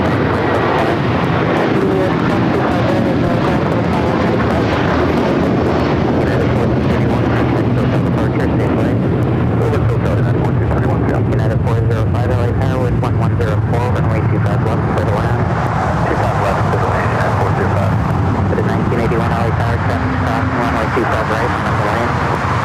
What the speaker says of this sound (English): United Airlines 1431 taking off to Honolulu